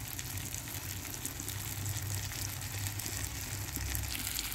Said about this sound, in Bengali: কষানো প্রায় হয়ে এসেছে, আর সামান্য একটু কষালেই হয়ে যাবে।